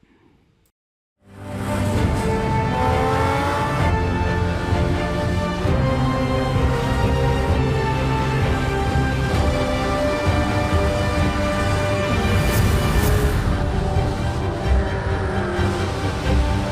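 Race car engine in the Project Cars 2 racing simulator, a loud sustained roar that starts abruptly after a brief quiet moment and holds steady with shifting harmonic pitch throughout.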